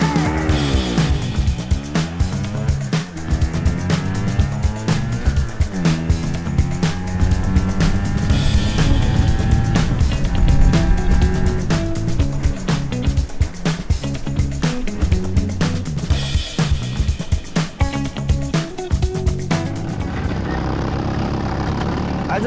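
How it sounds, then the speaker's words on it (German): A scooter accelerates from standstill to 80 km/h, its engine loud and near, climbing in pitch through repeated rising sweeps as it gathers speed, with wind rush over the top. "ich fahre jetzt mal los und schau mal, wie lange ich für 80 km/h brauche."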